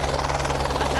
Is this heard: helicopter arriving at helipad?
yes